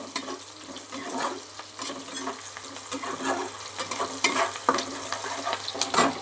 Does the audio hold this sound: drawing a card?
no